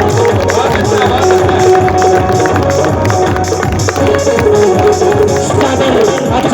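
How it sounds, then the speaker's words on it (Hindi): Audience applause at a Hindi motivational talk: dense, loud, continuous clapping from a large crowd that stays steady throughout, with faint babble mixed in. "जोरदार तालियां बजाइए भाई, जोरदार तालियां।"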